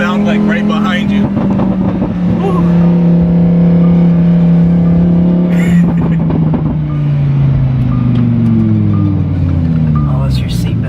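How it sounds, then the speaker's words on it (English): Lamborghini engine heard from inside the car, a loud, sustained exhaust drone that holds steady, then dips and drops in pitch as the revs fall, with a few sharp pops along the way. "Oh, those pops. That's what a Lambo is all about, man. That like exhaust sound like right behind you."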